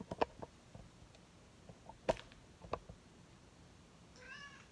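A pet cat indoors gives a soft, faint meow near the end, after a few quiet clicks and taps in a hushed room.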